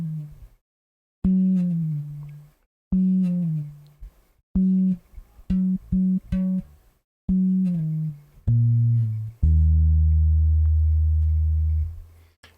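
A low, clean-toned guitar riff from a song played alone: short repeated notes and quick stabs with brief gaps, ending on a long sustained low note.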